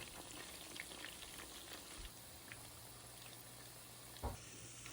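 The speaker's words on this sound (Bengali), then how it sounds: "তো আপনারা এটাকে খুবই দ্রুত ভেজে নিতে পারবেন" Chicken pakora fries in hot oil, giving a steady soft crackling sizzle with scattered pops, quiet and close, with no talking.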